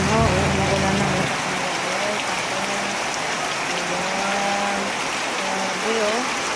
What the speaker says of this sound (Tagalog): Lakas ng baha, ang ulan ng ulan.